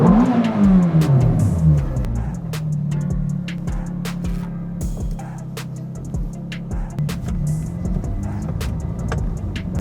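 A Ferrari F430 with a manual transmission pulls away on a drive, its engine climbing in pitch under acceleration, then settling into a steady, loud mechanical drone from inside the cabin.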